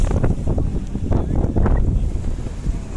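Strong seaside wind on a boat tour at Kekova roars and buffets the microphone continuously, loud and close, with a broad rushing texture that swells and dips.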